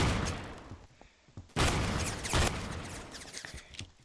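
Rapid volleys of a Remington shotgun loaded with bird shot in the video game Phantom Forces, loud sharp blasts with a fusillade-like burst in the middle, close and without voices.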